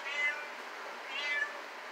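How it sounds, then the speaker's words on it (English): A cat gives two soft, drawn-out meows about a second apart, faint and close, with no voices. "That's my cat."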